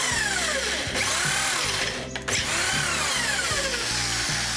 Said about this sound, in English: We'll drill a 3mm hole through the top of that.